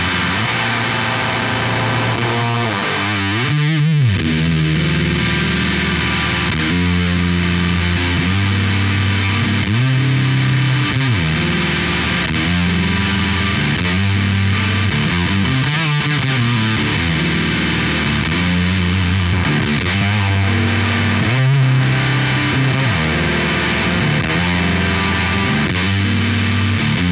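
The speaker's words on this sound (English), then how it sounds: "So now we've got a sort of Big Muff style pedal here" An electric guitar through a Big Muff style fuzz pedal plays loud and saturated, with thick sustained distorted chords shifting through a riff. No one talks over it.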